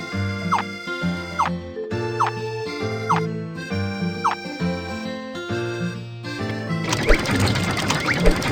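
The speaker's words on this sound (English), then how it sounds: "Put the peppers into the machine and remove the stalks." A pepper processing machine in a farm video game runs in a repeating cycle of synthetic mechanical clunks with rising chirps, then switches to a denser, noisier crunching for the final second or two.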